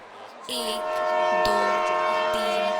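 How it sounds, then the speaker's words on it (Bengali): A train whistle sounds in a Bengali audio drama, a loud sustained tonal horn blast over rumbling rail ambience, with brief knocks and a faint voice beneath. "ট্রেন হুইসেল দিতে শুরু করল"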